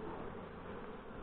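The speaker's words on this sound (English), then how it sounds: "there's a lot of bees are flying." Honey bees fly around hives in the early morning, a soft continuous buzzing hum with no voices.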